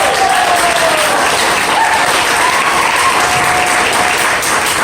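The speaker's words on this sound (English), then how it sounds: "Everybody give a big round of applause to Kevin Braga, Tito Dameron" A comedy club audience in Albuquerque breaks into loud, sustained applause after a stand-up set, dense clapping filling the room at a steady level with faint cheering mixed in.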